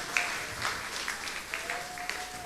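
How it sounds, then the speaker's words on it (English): Faint, scattered clapping from an audience at a primary school graduation ceremony held at a resort, brief and somewhat distant, with a few louder individual claps. "Another round of applause for the video montage class of"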